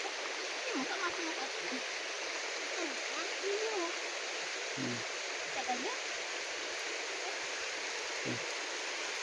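Steady river water rushes and flows in a continuous broadband wash outdoors, with faint brief splashes and knocks scattered through it.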